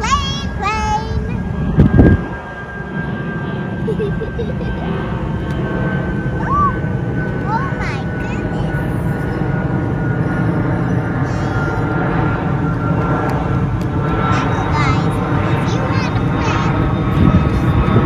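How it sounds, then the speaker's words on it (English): A fixed-wing airplane passes high overhead above a garden with good soil, its steady engine drone lasting throughout while voices talk nearby. "the airplane's passing"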